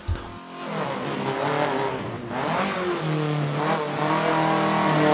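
A VW Golf race car drives fast on a circuit, its engine revving hard through rising and falling gear pulls after a sharp initial bang, loud and close with no talking.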